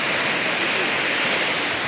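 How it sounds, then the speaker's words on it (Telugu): Steady, full roar of Pedabayalu waterfall near Uppa, Hukumpeta, a continuous broadband rush of falling water heard close and loud throughout, with no talking. "చూడండి, పెద్దపల్లి వాటర్ ఫాల్స్"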